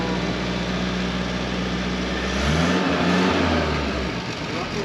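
A classic Citroën car arrives, its engine running steadily and then swelling louder in a revving surge midway before easing back, close by and prominent.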